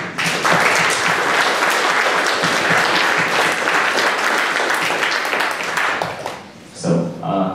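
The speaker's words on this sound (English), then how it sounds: "another round of applause" Audience at a Code & Coffee tech meetup gives sustained applause after a speaker conversation, with dense clapping across most of the clip that fades near the end as a voice begins talking.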